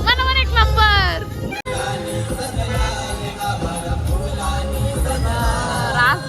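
A dense crowd murmurs and chatters at a busy temple, a loud continuous babble of many voices with a nearer person talking over it at the start and a car horn-like honk near the end.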